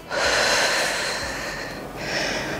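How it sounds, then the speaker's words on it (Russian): A long, breathy exhale during a home full-body workout's breathing exercise, loud and close, followed by a second airy breath, with no talking over it. "Давайте сделаем несколько вдохов-выдохов."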